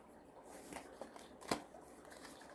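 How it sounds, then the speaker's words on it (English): Tarot cards being shuffled by hand during a reading, giving soft papery riffles and slides that peak in one sharper card snap near the middle, close and fairly quiet with no talking. "I didn't mean to keep shuffling."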